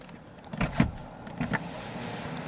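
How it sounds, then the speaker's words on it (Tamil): One-touch power window on a 2025 Toyota Land Cruiser LC300, heard as two short motorized whirs close by, the first a quick double pulse and the second a brief run about a second later, over a quiet cabin hum. "நம்ம பவர் விண்டோ ஜஸ்ட் எல்லாமே ஒன் டச்"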